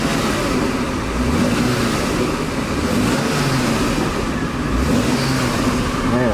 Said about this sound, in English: Man, she revs really good. You can rev it all day.